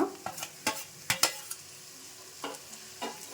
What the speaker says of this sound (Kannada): ಈಗ ಕ್ಯಾಪ್ಸಿಕಮ್ ಹಾಕ್ಕೊಳ್ಳೋಣ.